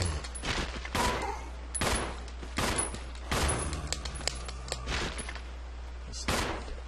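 Gunfire in the video game Resident Evil 0, several sharp, loud shots spaced irregularly over a few seconds, each with a short echoing tail.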